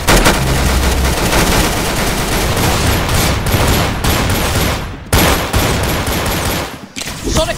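Gunfire rings out in a Roblox gun game, a loud, dense barrage of shots with short breaks, close and dominating the mix.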